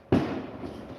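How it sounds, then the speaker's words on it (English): A single firework bursts outside with a sharp boom, then a rumbling echo that trails off over the next second. "Fireworks."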